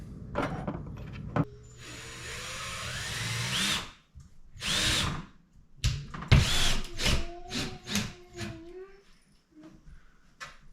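A power drill bores holes into a ceiling for anchor inserts during a ceiling fan installation, with several short, loud, close bursts separated by pauses, rustling and brief voices.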